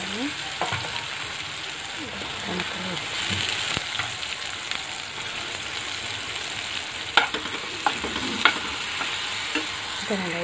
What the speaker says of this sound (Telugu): దీనిలో వెల్లుల్లిపాయ రకాలు వేసుకుని వేయించుకుందాం